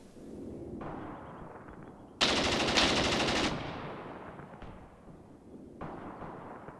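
Tank machine gun in the Graviteam Tactics war game firing a long, dense, loud burst of rapid automatic fire, with quieter gunfire and battle noise before and after it.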